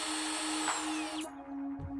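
A cordless drill runs at a steady high-pitched whine, loud and close, then winds down and releases, leaving a short dip before the motor whirs again.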